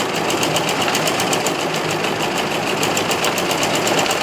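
A sewing machine stitching a folded fabric pleat runs in a steady, continuous, fast mechanical whir with rapid needle ticking, close and loud throughout without pause.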